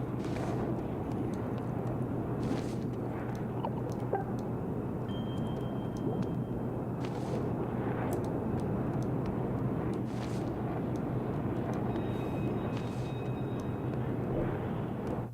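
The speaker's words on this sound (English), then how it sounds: "that's almost all I hear right now is just the plane going overhead" A plane passes overhead during a video game, a steady broadband rumbling drone that holds loud and constant throughout with no break.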